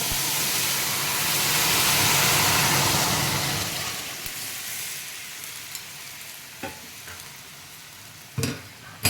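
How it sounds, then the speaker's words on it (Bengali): Vegetable curry frying in hot oil in a home kitchen, a loud steady sizzle and hiss that swells early then settles lower, with a few sharp clinks of a spoon against the pan near the end. "এখন আমি এই তেলের উপরে দিয়ে দেবো তরকারিটা"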